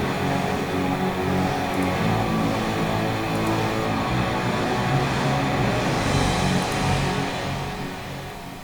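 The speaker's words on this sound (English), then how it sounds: "And I can also show you the sound of TPDF dither." Broadband hiss of TPDF dither on audio reduced to 8-bit depth, a steady, dense noise floor spread across the whole range, holding at constant loudness from start to finish with no talking.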